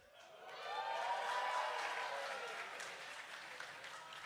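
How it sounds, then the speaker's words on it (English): An audience at a solar car race awards ceremony breaks into applause and cheering that swells over the first second, holds steady, then slowly eases off, moderately distant and even. "That cheer never gets old."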